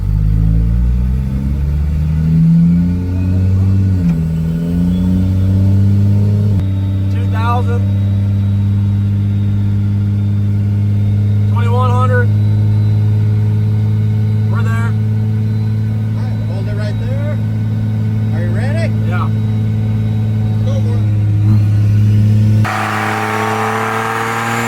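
A diesel truck engine held in fifth gear drones loudly and steadily, its pitch climbing slightly as it revs, while people talk over it throughout.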